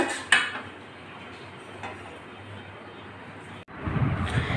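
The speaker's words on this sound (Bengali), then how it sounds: "এই যে একটা প্লেটে সব বেড়ে নিচ্ছি ভেজিটেবলস ফ্রাইড রাইসটা" Vegetable fried rice being served onto a plate at home, with dishes, pots and cutlery clinking and scraping close by, a louder clatter near the end, and no talk.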